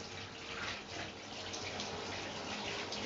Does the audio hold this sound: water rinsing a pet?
yes